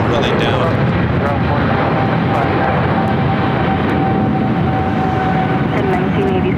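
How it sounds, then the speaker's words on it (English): An EVA Air airliner accelerating down the south-side runway at LAX, a loud steady jet roar with broadband rumble that holds throughout. "EVA Air now rolling down."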